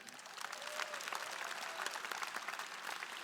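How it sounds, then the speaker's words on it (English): Audience applause at a presidential election forum, a dense steady wash of many hands clapping at moderate level throughout, with faint voices mixed in. "Give ourselves a round of applause for that."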